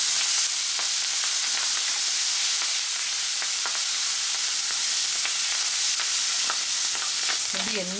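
Green chilies and curry leaves crackle and sizzle in hot oil, a dense steady frying hiss with scattered pops and the scrape of stirring near the end.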